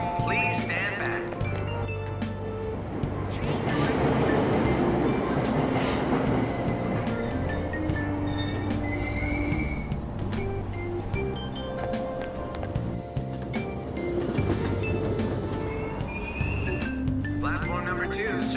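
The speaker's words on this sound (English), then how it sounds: "Train doors are now closing." Train at a station platform in Persona 5 Royal, with a steady rumble and rail noise running throughout, train announcements and chime-like tones layered over it, and a voice speaking through much of the scene.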